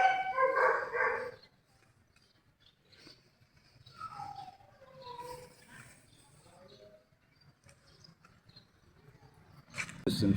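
Dogs howling and barking around a pagoda in Siem Reap, Cambodia, while a gong sounds; a loud burst at the start, then fainter wavering howls trailing off before a final loud burst.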